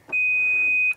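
A single sustained high-pitched electronic beep from the electric boot of a 2022 Skoda Kodiaq sounds clearly for nearly a second against quiet background, followed by a brief soft thump.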